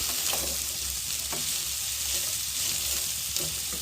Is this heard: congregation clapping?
no